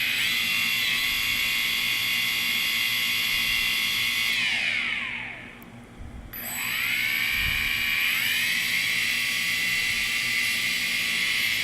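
Electric motors of a small drone spinning up for takeoff, a loud high whine with layered tones that dips and fades mid-clip, then ramps back up and holds steady, close and without talk.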